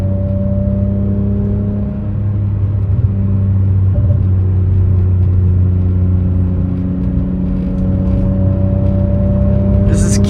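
Steady cabin drone of a BMW E46 M3 cruising on a highway, a constant engine hum and road rumble at fairly loud level, with a brief faint rustle near the end.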